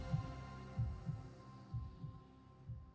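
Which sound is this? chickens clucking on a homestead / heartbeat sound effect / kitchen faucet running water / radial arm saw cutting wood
heartbeat sound effect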